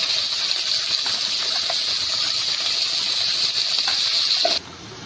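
Masala paste going into hot oil with curry leaves and mustard seeds for Hyderabadi mirchi ka salan, giving a loud, steady sizzling hiss that holds for about four and a half seconds, then drops off abruptly.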